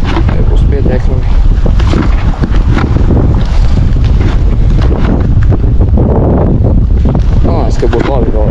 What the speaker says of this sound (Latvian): ja vējš tagad nereāli liels